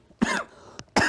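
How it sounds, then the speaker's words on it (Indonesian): Two sharp coughs from one person, close to the microphone, separated by a brief pause with a faint click between them. "nah itu batuk tuh, bahaya tuh."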